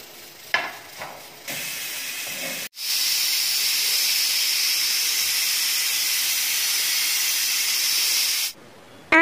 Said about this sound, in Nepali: 7-8 सिटी लाग्नु दिनुपर्छ।